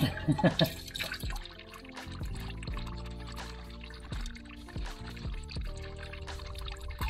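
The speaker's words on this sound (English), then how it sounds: "Now with the coolant draining or drained" Coolant draining from the radiator of a Range Rover Sport L320, a steady liquid pour and splash with dripping underneath, moderately close, plus some intermittent clunks and background tones.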